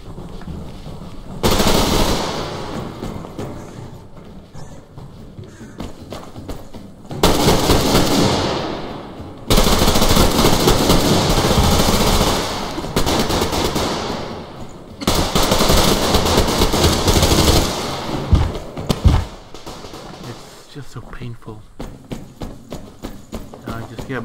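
Gunfire in the online shooter Survarium, long loud bursts of rapid automatic shots with thuds and pauses between volleys, heard close alongside game noise and someone talking.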